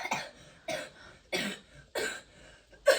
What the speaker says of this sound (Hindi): अभी तुमने खांसी करी है बात करते करते।